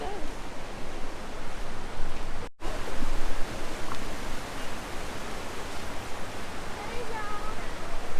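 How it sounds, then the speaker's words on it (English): A waterfall in Bali gives a steady, dense broadband roar that continues unbroken through the whole stretch, apart from one very brief dropout partway in. "Definitely sounds like a waterfall here."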